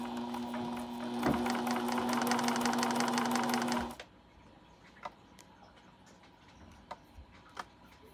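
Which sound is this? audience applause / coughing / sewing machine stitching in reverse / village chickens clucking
sewing machine stitching in reverse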